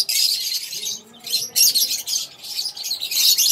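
African lovebirds chirp in quick, shrill bursts, several close squeaky calls repeating in clusters with brief gaps, alone without talk.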